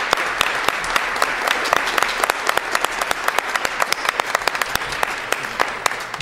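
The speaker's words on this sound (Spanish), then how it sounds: "Un aplauso para nuestro fabuloso coro" A church audience applauds the choir during a service, a dense wash of many hands clapping steadily and loudly for about six seconds, with a few sharper individual claps standing out.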